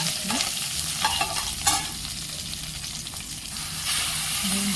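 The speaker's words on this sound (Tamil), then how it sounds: "இந்த இஞ்சி பூண்டு போட்டு வாசம் போகிற வரைக்கும் நல்லா வதக்கணும்" Ginger and garlic sauté in hot oil with whole spices and curry leaves, a steady close sizzle with a few stirring scrapes, no voices.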